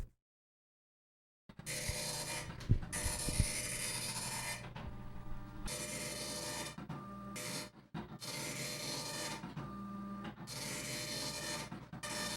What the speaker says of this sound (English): send whatever you have to my printer